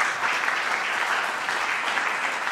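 Audience applause for contestants at a FameLab science communication regional round in Zlín, a steady, dense wash of clapping from a sizable crowd throughout.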